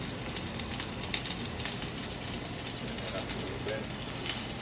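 Filet steaks searing in a hot pan, a steady close sizzle that holds evenly throughout with faint crackles and spits.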